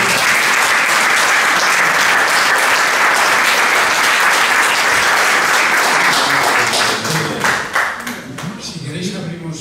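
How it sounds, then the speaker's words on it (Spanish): An audience at a book presentation gives hearty applause, dense rapid clapping that holds strong for several seconds before thinning out and fading near the end. "Bueno, yo creo que sí merece un buen aplauso."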